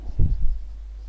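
A pen or pencil scratches briefly on paper, writing an answer by hand during a science lesson, in two short close strokes followed by quiet room tone.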